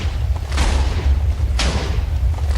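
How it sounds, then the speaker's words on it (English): TNT explosions in Minecraft, two loud booming blasts about a second apart, each a sharp burst that fades into a rumbling tail over steady low background noise. "the explosions don't fully clear out the blocks. That's just the way TNT blows up."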